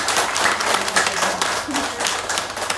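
Crowd applause at a preschool (PAUD Santo Agustinus) visit in Manulea village, Malaka, a dense steady patter of many hands clapping throughout, fairly loud and continuous.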